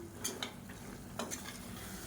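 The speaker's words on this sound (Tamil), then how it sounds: "இப்போ இதையும் நல்லா வதக்கி விட்டுக்கலாம்." Beans sizzling in a pan with occasional scraping stirs of a spoon, steady frying hiss underneath, close and moderately quiet.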